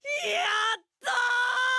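A cartoon character in Zom 100 screams in overwhelming joy, two long, loud, tonal yells split by a brief pause.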